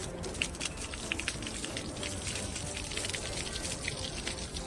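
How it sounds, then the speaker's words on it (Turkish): Water pours and splashes over construction rebar treated with rust remover, a steady hissing patter like rain on a hard surface, moderately quiet and continuous. "Şimdi şu şekilde suyla durulamamamızı yapıyoruz"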